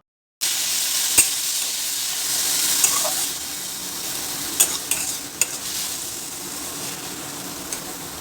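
Chopped onion and tomato hit hot oil with panch phoron for a Bengali potato and long bean dish, a loud continuous sizzle with a few sharp clicks of a spoon stirring the pan.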